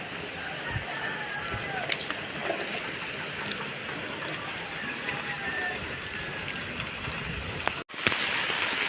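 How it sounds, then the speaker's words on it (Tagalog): Steady rain pours down without letup, a dense hiss filling the whole stretch, with a few louder drips and knocks standing out near the end. "Patuloy pa rin po ang pag-ulan po dito."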